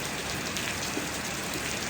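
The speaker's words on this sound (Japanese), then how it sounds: "ちょっと雨が降ってきたんで" Steady rain falls outdoors near a car parked for engine work, a dense, even hiss that runs without a break and covers the whole sound.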